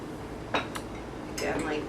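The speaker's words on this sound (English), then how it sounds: "Next I'm going to put some rice." Rice is tipped into a pot over ground beef while layering makloubeh: a few short, sharp clinks and rattles against the pot, spaced irregularly over steady low background noise.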